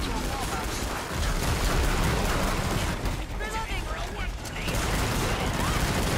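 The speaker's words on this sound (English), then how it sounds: "I'm shooting them as hard as I can, man" Gunfire from Killing Floor 2 runs as a dense, continuous fusillade of overlapping shots and mechanical clatter, with voices talking over it throughout.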